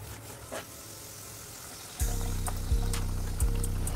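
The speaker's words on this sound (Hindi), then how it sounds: "और अब मैं इसमें ऐड करूँगी जो मैंने मसाला पीसा था वो, और इसे मैं अच्छे से मिक्स कर लूँगी।" Ground green masala stirred into a prawn curry in a pan: a steady sizzle, then from midway louder rhythmic scraping strokes of mixing, close and without talk.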